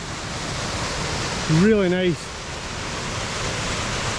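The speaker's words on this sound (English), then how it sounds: "huge number of waterfalls" Waterfalls rush in a mountain gorge in the Mamores near Stob Ban and Mullach nan Coirean, a steady broad roar of falling water throughout, with a man's short remark briefly spoken over it.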